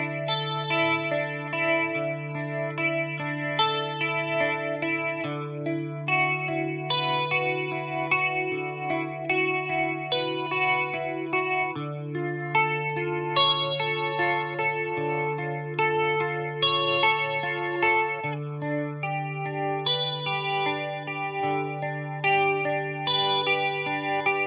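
Electric guitar with a chorus-style effect plays the main chord progression of a song, sustained, ringing chords over a steady low root note, evenly loud throughout with no voices.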